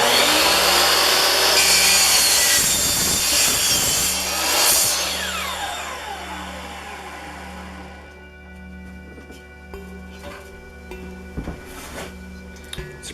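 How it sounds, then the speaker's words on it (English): A 10-inch carbide-tipped power saw blade cuts through aluminum with a loud, harsh, high-pitched screech. The whine winds down after several seconds, leaving the motor hum fading with scattered clicks. "This is a 10-inch carbide tipped blade,"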